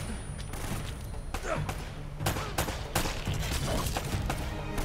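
Gunfire from the video game Uncharted: Drake's Fortune crackles in scattered bursts of sharp shots and thumps over a constant background din, mid-level in loudness, while people talk over it.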